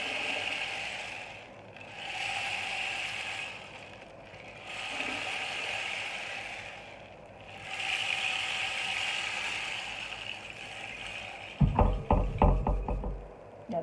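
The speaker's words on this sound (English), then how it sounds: "You heard my little rainmaker thing?" Rain stick rainmaker tipped back and forth, giving three long hissing, rattling pours separated by brief pauses, followed by a burst of sharper knocks and clatters near the end.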